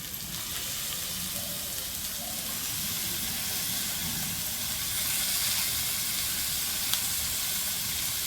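Meat dropped into spice masala frying in oil on a clay stove, a steady hissing sizzle that swells slightly midway, fairly close and without talk.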